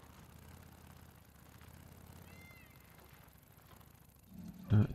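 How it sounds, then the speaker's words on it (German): A cat meows in the video game Days Gone: a single short, loud meow close by near the end, after several seconds of quiet ambient game sound with a low engine-like hum. "Ich habe eine Katze gehört."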